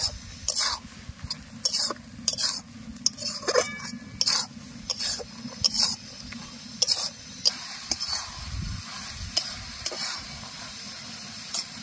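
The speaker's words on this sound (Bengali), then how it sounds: "এবার এই নাড়তে নাড়তে জলগুলো শুকিয়ে নেব" Carrot halwa being stirred in a pan to cook off the remaining water: repeated scraping and clattering strokes over a continuous low sizzle, close up, with no talking.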